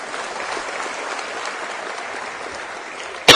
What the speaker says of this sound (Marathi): सगळ्यात आधी पहिल्यांदा टाळ्या तुमच्या स्वतःसाठी वाजवा